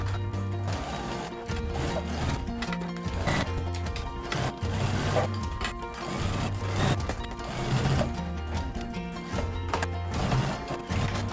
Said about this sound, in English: we're going to go to our sewing machine and we're going to edge stitch all the way around that sleeve